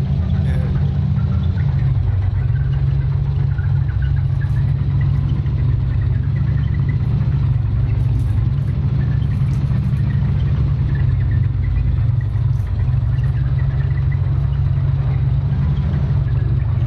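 A tank in the Heroes and Generals video game crawls slowly along, its engine giving a steady, heavy low rumble and whir that stays close and continuous throughout.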